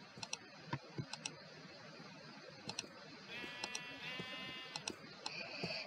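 Sheep bleat repeatedly in a survival video game, sharp harmonic calls standing out over a steady bed of game ambience, with quick keyboard typing clicks scattered throughout.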